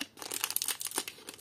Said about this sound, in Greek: Περίμενε, θα δοκιμάσω με το ψαλίδι.